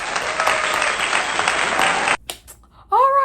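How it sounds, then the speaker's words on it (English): Loud, dense audience applause with crowd noise at a wrestling-themed event, cutting off abruptly partway, followed by brief sounds and a tonal voice-like tail. "Everybody give him a round of applause!"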